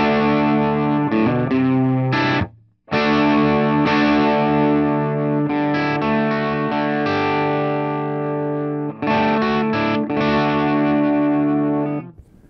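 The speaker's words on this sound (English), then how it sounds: "you get into the British Class A, like a Vox AC30 Top of Boost" A 1996 Line 6 AxSys 212 modeling amp set to its Vox AC30 Top Boost model rings out with sustained mid-gain guitar chords, briefly pausing near the start and then strumming on with chorus-like shimmer.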